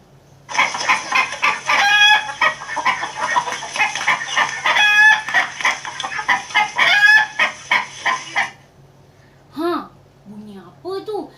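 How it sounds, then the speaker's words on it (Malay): A rooster crows loudly and repeatedly in a stretched, warbling cock-a-doodle-doo, alone at first, then a short pause and a few brief voice sounds at the end. "Bunyi ayam berkokok."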